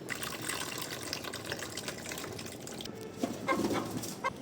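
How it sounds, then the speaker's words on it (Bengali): Water pours out of a freshly cut green coconut in a home kitchen, a soft continuous trickle under faint background noise that grows a little louder and splashier near the end. "এখন আমি ডাবের পানিটা বের করে নিব।"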